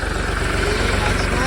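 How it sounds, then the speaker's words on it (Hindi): A new tractor's engine chugs past on a narrow road in a steady, close, low-pitched idling rhythm of even pulses, with voices talking over it. "वो आ रहा है सामने से ट्रैक्टर"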